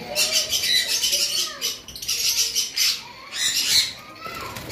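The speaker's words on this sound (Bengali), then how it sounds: "এখানে ভায়োলেটের একটা পেয়ার রয়েছে, ডাবল ফ্যাক্টর ভায়োলেট মাস্ক আমরা যেটাকে বলে থাকি" Pair of violet double factor masked lovebirds in a cage, chattering in repeated bursts of shrill chirps and squeaks, close and fairly loud, with faint rustling between calls.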